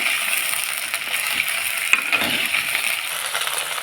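Okra frying in a pan for a Tamil-style okra kara kuzhambu, giving a steady broad sizzle that stays even and moderately loud throughout, with a faint scrape or tap midway and no voices.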